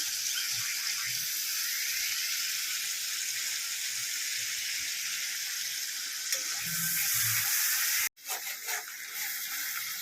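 A coarse spice paste of tomato, onion, ginger and garlic, with turmeric, chilli and salt, sizzles steadily in a hot pan for a sea crab dish, a constant bright hiss with faint stirring scrapes and a brief break near the end.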